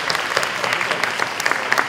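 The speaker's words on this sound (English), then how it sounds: "I'd like to give a round of applause to our panelists for coming" Brief burst of audience applause for panelists at the end of a discussion event, steady clapping with sharp individual claps standing out.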